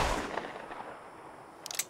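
A single Schofield revolver shot in a Red Dead game booms at the start and fades into a long echoing tail, with a few faint cracks near the end.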